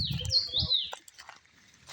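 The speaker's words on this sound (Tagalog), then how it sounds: "Yung mga ibon, malalaki rin oh." High, sharp calls of swans and other birds ring out near the start at a lake in Poland, followed by quieter chirps and scattered low rustling in the background.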